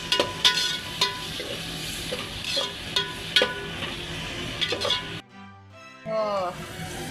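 Onions browning in hot oil in a home kitchen give a steady, close sizzle broken by sharp spatula taps and scrapes while stirring. The sizzle cuts out near the end, and a voice then briefly speaks.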